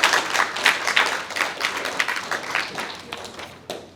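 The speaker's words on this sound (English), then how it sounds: "I just want to give him another round of applause." Clapping from a seminar audience at a networking-for-inclusion event, a burst of many hands at close range that fades gradually over several seconds, ending with a single sharper clap.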